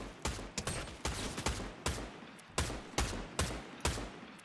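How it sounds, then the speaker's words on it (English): Bursts of gunfire from enemies in a Fortnite match, eight or nine sharp loud shots spaced roughly half a second apart, each with a short ringing tail over a steady game ambience. "they're shooting at us. Ow, I'm getting shot."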